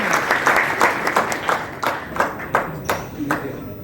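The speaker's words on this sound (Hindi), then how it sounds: "इनको एक स्टैंडिंग ओवेशन मिलना चाहिए" At an electrician award ceremony, a crowd gives a standing ovation: steady, fairly close clapping with rhythmic surges of claps running through it, and no clear talk on top.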